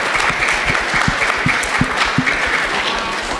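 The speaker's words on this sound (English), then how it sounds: "How about a big round of applause for Mr." An audience claps at a school alumni panel, a dense, steady round of applause filling the room from start to finish.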